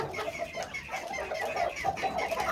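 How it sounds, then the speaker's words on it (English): Three young Old English Game Bantam roosters cluck continuously in a pen, a busy overlapping stream of close, moderately loud clucks with no talking. "Down here is just 3 young roosters that we haven't put together with their hens yet."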